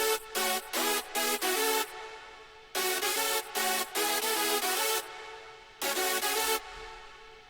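Hardstyle synth lead built in FL Studio plays a punchy rhythmic phrase of bright, buzzy chords in short repeated stabs, with reverb tails filling the gaps between bursts, loud and alone.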